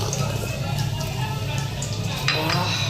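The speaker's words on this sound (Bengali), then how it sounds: "পনির ভাজছি" Paneer fries in a pan at home, with a soft steady sizzle and occasional scraping of a utensil against the pan under a low background hum, close by throughout.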